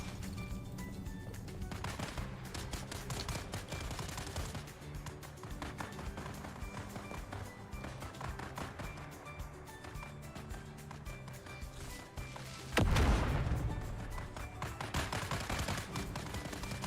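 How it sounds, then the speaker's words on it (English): Two camps exchange sporadic gunfire in Dune Awakening, distant crackling shots scattered through a steady dense background of game ambience, with one louder nearby blast toward the end. "So those two camps were shooting each other."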